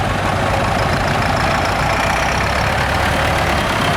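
A 27-inch petrol-powered vintage tractor idles steadily in a spring fayre show arena, its engine a continuous low, even rumble close by with no voices over it.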